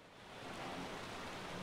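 Heavy rain pours in ARK Survival Evolved on Xbox Series X, a brief, dense, even wash of noise that is faint overall and free of talk.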